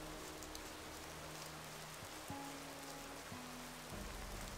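Steady rain hisses in Gothic 2 under a low droning game music bed whose notes shift a few times.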